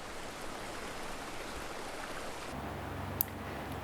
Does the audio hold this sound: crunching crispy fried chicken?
no